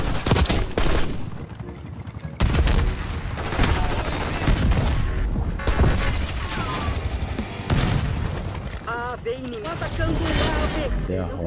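Dense, continuous gunfire from a Call of Duty: Black Ops 6 match, with rapid automatic bursts, single shots and booming impacts running nearly the whole time under excited players talking.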